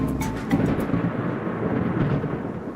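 Deep thunder rumbles and rolls steadily after a big lightning bolt, low and heavy, with faint rain in the background.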